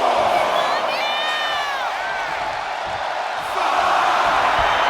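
A wrestling arena crowd at an NXT Roadblock event cheers loudly and continuously, with shouts and whoops rising over a dense roar that swells again near the end.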